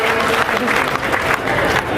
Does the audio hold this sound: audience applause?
yes